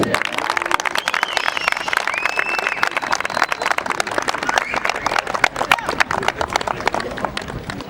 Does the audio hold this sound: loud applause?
yes